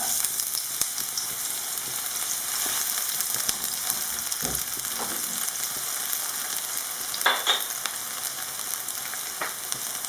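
Onion frying in olive oil in a pan, a steady close sizzle with a few soft clicks and stirring touches, no talking over it.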